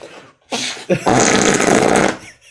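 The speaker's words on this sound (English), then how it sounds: "Doesn't that sound like a real fart?" A loud, sputtering fart sound in two bursts, a short blurt followed by a longer rasping one, close and alone with no talking.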